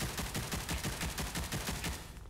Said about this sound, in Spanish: ¿Dónde es esos tiros?